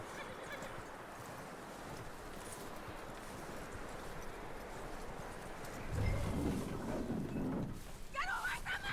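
Horse hooves clip-clop steadily in Red Dead Redemption 2, a western video game, under a dense outdoor ambience with speech throughout and a louder swell of activity near the end.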